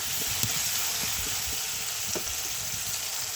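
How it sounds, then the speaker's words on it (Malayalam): Ginger garlic paste frying with tomatoes in a pan for cauliflower masala, stirred now and then: a loud, dense, unbroken sizzle with light scrapes and taps, close up and without talk. "ഇനി ഇതിലേക്ക് നമുക്ക് ഇഞ്ചി വെളുത്തുള്ളി പേസ്റ്റ് നന്നായി ഒന്ന് ഇളക്കി കൊടുക്കാം"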